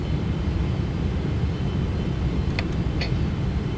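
Simulated Boeing 777 airliner on final approach to landing in the Flight Factor flight simulator, a steady, loud broadband engine and wind roar holding throughout with a couple of faint clicks near the end, no talking.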